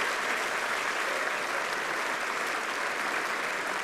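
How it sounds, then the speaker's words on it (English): Steady, full applause fills a hall at the 2005 Brownlow Medal count for West Coast Eagles player Ben Cousins, a dense, even roar of many clapping hands heard alone. "A round of applause for Ben."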